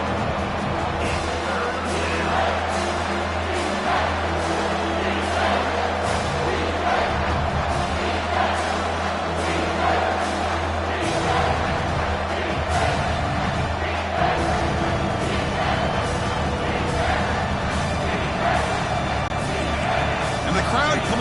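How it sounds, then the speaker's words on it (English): Football stadium crowd in Texas, with the defense in the red zone, produces a dense, continuous roar of cheering and crowd noise that stays loud throughout, with a commentator talking over it. "the crowd coming to life here trying to help this defense down in the red zone"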